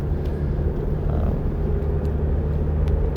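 A steady low four-cylinder engine rumble from inside a moving 2021 Subaru Crosstrek Sport, constant and close, with faint road noise and no voices.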